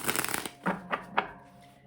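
Tarot cards shuffled by hand: a quick run of soft riffling flutters, then three separate brisk snaps of the deck, close and fairly quiet, with no talking.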